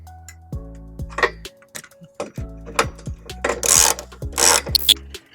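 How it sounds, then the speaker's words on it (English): A ratchet clicks in quick bursts as a 17mm socket snugs up trailer hitch bolts on a 1998 Subaru Forester, with brief pauses and some louder metallic rasps near the end. "We'll go ahead and get these snugged up with the 17mm socket."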